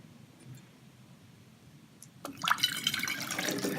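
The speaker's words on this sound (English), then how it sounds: "And pour in our nectar." Cooled homemade hummingbird nectar pours through a funnel into a feeder bottle, starting with faint clicks and swelling into a steady, close liquid splash and trickle.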